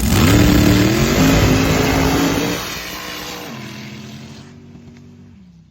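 A blower-injected small-block drag racing car engine roars at high revs, loud and close at first, then drops in pitch and fades as it pulls away down the strip.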